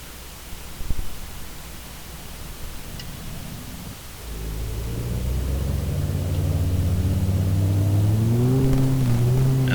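Twin turboprop engines of a Carenado Do228 start up in a flight simulator: a quiet hiss, then from about four seconds a loud, steady drone whose tones climb gradually as the engines spool up, with no talking.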